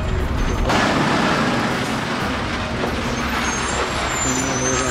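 A 16-wheel lorry working along a ghat road gives off a loud, continuous heavy-engine rumble with broad road noise that holds steady throughout, with no clear breaks.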